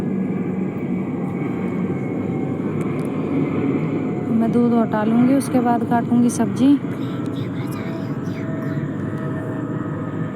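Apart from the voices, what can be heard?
airplane flying overhead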